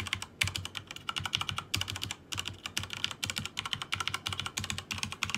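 Fast typing on an ROG mechanical keyboard with Cherry MX Red switches, with close, crisp, rapid keystroke clatter in steady bursts and brief pauses.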